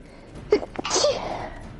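A single sharp human sneeze, close and loud: a quick intake of breath followed by a forceful burst that trails off within about a second.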